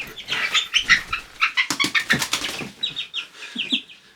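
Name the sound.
cockerel chicken flapping wings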